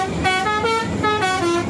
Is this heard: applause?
no